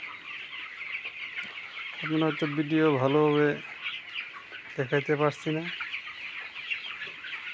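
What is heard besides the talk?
chickens clucking in a coop at night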